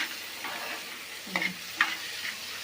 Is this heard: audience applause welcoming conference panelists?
no